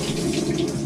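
Water rushes steadily into a Maytag washing machine during its cold and hot water fill test, a brief, even hiss of flowing water.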